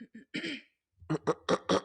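A person clears their throat in a few short, rough bursts, close and fairly quiet, with brief pauses between them.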